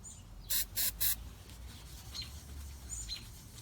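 Brake cleaner hisses from an aerosol can in three short, loud, evenly spaced bursts close by, followed by quiet background.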